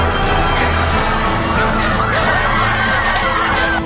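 A loud crowd of shoppers rushes into a Walmart store near Grand Rapids, Michigan, at 5 in the morning, a dense roar of shouting voices, yelps and laughter swelling without a break.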